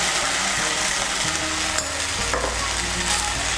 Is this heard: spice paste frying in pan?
yes